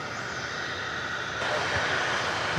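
Steady broadband roar of an American Airlines Airbus A321 airliner at DFW Airport, growing louder partway through as the jet nears, with no break in the engine noise.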